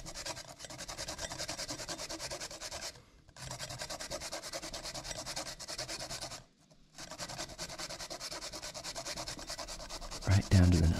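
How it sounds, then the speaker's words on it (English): Fresh cucumber rubbed against a grater in a kitchen, a steady close rasping scrape with two short pauses as the stroke restarts, and a brief heavier clunk at the very end. "First we're gonna grate some cucumber."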